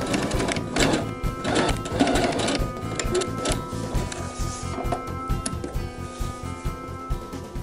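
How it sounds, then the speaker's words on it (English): A sewing machine top stitches the end of a fabric tote shut, running in a fast steady rattle with rhythmic mechanical clatter for several seconds at moderate volume. "we're going to go to the machine and top stitch that end shut"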